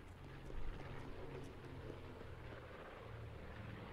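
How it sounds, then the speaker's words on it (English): The supply drop helicopter in Call of Duty Blackout gives a low, rumbling rotor drone, quiet and somewhat distant, with a slight surge early on before settling into an even thrum. "That's the chopper. Supply drop inbound."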